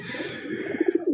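Wantai pigeons coo close by in a short run of soft, low, rhythmic pulses that grow stronger toward the end.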